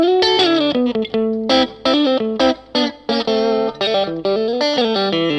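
Fender Stratocaster electric guitar on the neck and middle pickup combination plays a clear, chiming melodic phrase of separate plucked notes and short chords with a slightly effected, shimmering tone, loud and alone.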